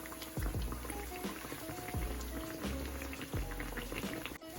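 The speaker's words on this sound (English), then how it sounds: "And then just fry these until they get very light golden." Sopes fry in hot oil in a pan, a quiet bubbling sizzle with soft crackles and a few dull knocks of handling nearby.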